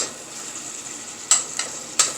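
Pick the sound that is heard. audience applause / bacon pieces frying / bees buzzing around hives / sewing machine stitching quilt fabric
bacon pieces frying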